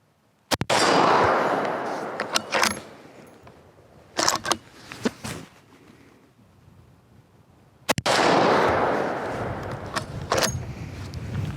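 A Ruger Scout rifle fitted with a red dot fires three sharp, loud shots several seconds apart at an outdoor swinging steel target. Each crack rings out with a trailing echo and metallic clangs, and quieter handling noises fill the gaps.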